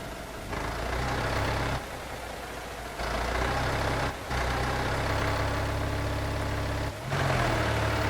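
Truck engine in the video game Drive Beyond Horizons, a steady low idling rumble that drops out briefly a few times, loud and continuous with no talk.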